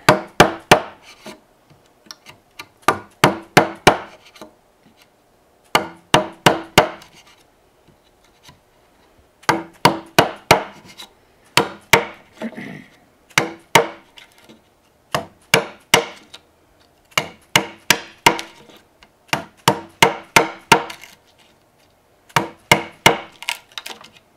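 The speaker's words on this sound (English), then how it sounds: "my illustrious assistant is going to cut the mortise while I hold the board" A wood mortise being cut by hand with a chisel and mallet, sharp rhythmic knocks in quick clusters of four to six strikes separated by short pauses, close and crisp, no talk.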